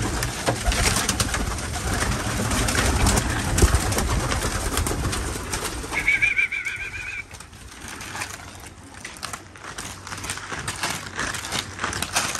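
Pigeons coo outdoors at a hunting spot amid steady background noise and rustling, with a brief high warbling call in the middle and soft, low coos continuing afterward.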